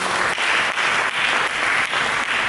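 A church congregation applauds during a sermon, a dense wash of many hands clapping steadily at close range, with slight dips in intensity every few tenths of a second.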